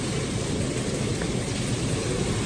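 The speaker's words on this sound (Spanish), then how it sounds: "está lloviendo sin rayos ni truenos" Steady rain hisses as broadband noise, even and moderately loud with no pauses, wind-like and without thunder.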